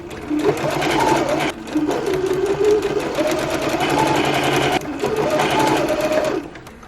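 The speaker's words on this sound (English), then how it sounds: "So I'm gonna go ahead and sew this curve at the seam allowance that I've allowed for this" A sewing machine stitches a curved neckline facing seam with back stitching, a close, loud mechanical whir running in two long bursts separated by a brief pause.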